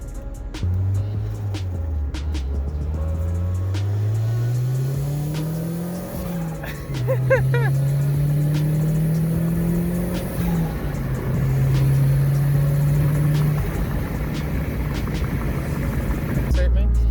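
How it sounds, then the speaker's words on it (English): Toyota MR2 SW20 turbo engine with a rebuilt billet turbo, making around 300 wheel horsepower, heard from inside the car as a steady drone whose pitch climbs through long pulls, with a brief dip and a sharp burst near the middle. "So it spooled really fast. And it's way louder than like a stock turbo."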